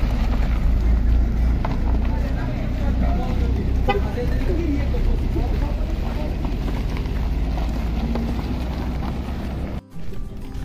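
A car passes close by at an outdoor 83rd birthday gathering, a brief horn toot sounding over loud wind and steady crowd chatter, with people talking throughout.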